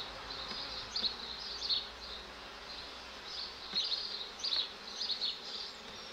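Honeybees from a strong June swarm buzz steadily around an open hive, a dense, continuous drone with individual bees swelling louder as they pass close by, no voices.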